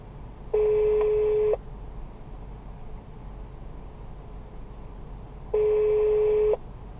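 Ringback tone of a phone call placed from inside a Lexus LX 570: two long, steady electronic beeps about a second each, spaced several seconds apart, over quiet cabin hiss.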